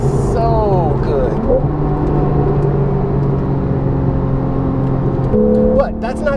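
A Porsche 911 GTS with a PDK gearbox drones steadily while driving, with a sustained engine hum and road rumble, loud and close from inside the car, and the engine note shifts near the end.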